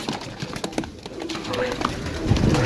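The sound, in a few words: Sialkoti pigeon cooing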